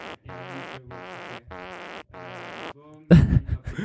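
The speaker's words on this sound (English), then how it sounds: "I mean, it's a fart." A human fart: a series of four loud, buzzy, pitched bursts in an even rhythm with short gaps between, followed by a brief squeak and a louder, rougher blast at the end, close up with no speech.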